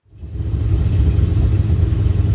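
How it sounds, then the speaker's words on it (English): A Yamaha jet boat engine, being winterized and fogged, cranks and catches, then settles into a loud, steady low rumble that holds alone without talk. "Let's get the engine started."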